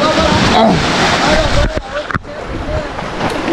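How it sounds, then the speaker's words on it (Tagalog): Weak waves hit the shore in a continuous rushing, sloshing wash of water that stays loud and steady throughout. Faint voices blend into the surf. "medyo mahina pa lang yung hampas ng alon"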